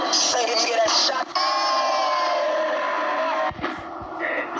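A crowd cheers and whoops for a rapper, a loud sustained roar of voices with shouts rising over it, fading briefly near the end.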